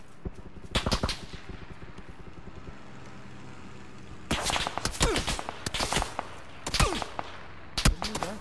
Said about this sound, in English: Someone behind us with a shotgun?